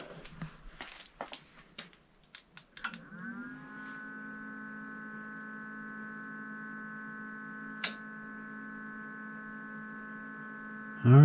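Steady electrical hum from a portable power station charging after a PCB fuse replacement. A few clicks and taps come first, then a constant tonal buzz settles in and holds close and even, with a brief click near the end.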